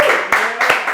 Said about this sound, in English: You're right to applaud.